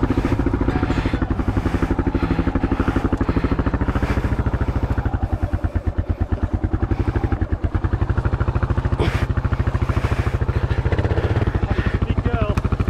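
An adventure motorcycle engine runs close by with a loud, steady, rumbling throb for the whole stretch, and people talk briefly over it.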